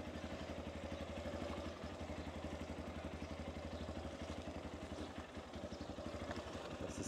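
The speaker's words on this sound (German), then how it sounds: "dann schnappe ich mir das Motorrad" A motorcycle engine runs steadily in rural Lebanon, a low even putter with light mechanical clatter, continuous and fairly quiet throughout.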